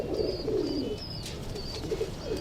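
A pair of green pigeons coo softly and close by, low rolling calls repeating in short bursts over faint background noise.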